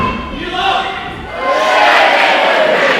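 A wrestling crowd at a live event in Aylesbury roars and chants for Danny Isit, a loud, dense wash of cheering voices that swells and builds toward the end.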